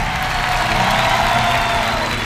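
A concert audience applauds in a dense, steady wash of clapping for a musical performance, loud and continuous with faint crowd noise mixed in.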